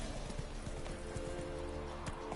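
Roach the horse from The Witcher 3: Wild Hunt, hooves clip-clopping in a quick steady rhythm under continuous game music and ambience.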